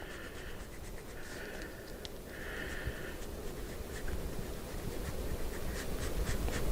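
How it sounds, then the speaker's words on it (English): A thumbnail scores 3M tape on a motorcycle fender with soft, close, scratchy strokes. Two brief higher-pitched swipes stand out over a steady background hiss. "We're going to go ahead and score that 3M tape again"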